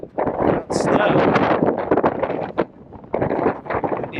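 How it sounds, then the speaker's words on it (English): Strong wind buffets the microphone on a snowy mountain viewpoint in Yosemite, a dense, gusty roar that runs almost throughout, briefly easing near the middle, with people talking over it. "Windy too. It's really windy, but still snow up here."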